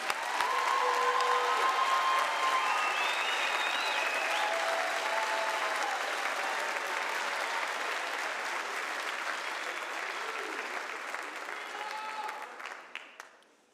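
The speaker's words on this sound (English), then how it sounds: "Let's give one more round of applause" Sustained applause from a large crowd for graduates at a College of Health Sciences commencement, a broad steady roar of clapping with faint cheers that holds for over ten seconds before fading out at the end.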